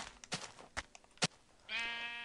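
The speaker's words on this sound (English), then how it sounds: "Screw you, sheep. Get off my mountain." A Minecraft sheep lets out a single clear bleat near the end, preceded by a few soft clicking game sounds and quiet background.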